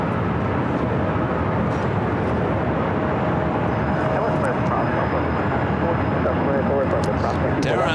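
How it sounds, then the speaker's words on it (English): Delta Airbus A321neo jet at LAX, a loud continuous engine roar with a faint rising whine, steady throughout with no voices. "Then A321neo with Delta Flight 718 heading to Orlando"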